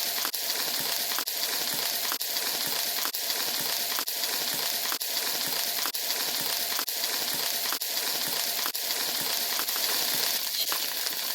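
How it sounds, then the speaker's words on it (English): Burgers sizzle on a griddle on their second flip, giving a steady, dense crackling hiss with faint regular ticks woven through it. The sound stays close and even throughout, with no talking. "Here we have those burgers on the second flip, and they are just taking and sizzling away really nice."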